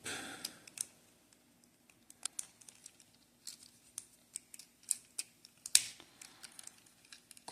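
Plastic parts of a Transformer Masterpiece MP-08 Bumblebee toy give small, close, sharp clicks and snaps at irregular intervals as they are folded and pressed into place, with faint rustling between.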